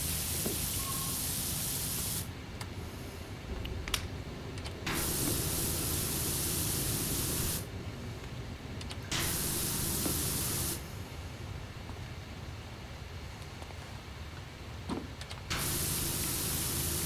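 A pressure washer in Powerwash Simulator sprays in loud hissing bursts, several long stretches of jet noise broken by short pauses, with no talking.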